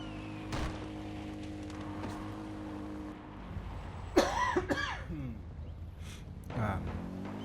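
A person coughs a few times, rough and close, over a low steady background hum with a passing engine-like rumble.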